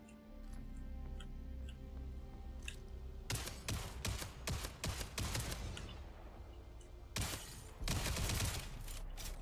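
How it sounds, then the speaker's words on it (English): A semi-automatic multi-tool gun in the space game Jump Space fires in two fast bursts of sharp, rapid cracks separated by a pause, moderately loud against a quiet humming background. "this is called a multi-tool and it's just a gun"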